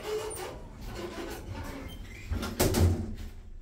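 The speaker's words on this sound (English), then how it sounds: "Doors closing." Stannah-modernised passenger lift doors at an M&S store in Southport slide shut with a soft continuous rub, ending in a louder thump as they meet, indoors and fairly close.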